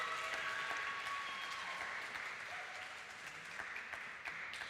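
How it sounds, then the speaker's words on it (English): Faint applause from a jazz concert audience greets a returning rhythm section at a Juneteenth event, a soft, steady patter of clapping from a distance with some tonal hum in the room. "Give them a round of applause."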